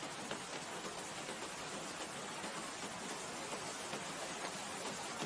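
Steady, dense rain hiss with no breaks, even and moderately close, and no other sounds standing out.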